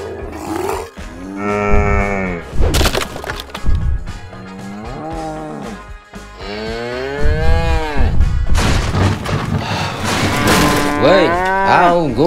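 A giant cartoon cow bellows a series of long, loud, sweeping moos while rampaging, with deep roaring calls repeating over about twelve seconds and no talking.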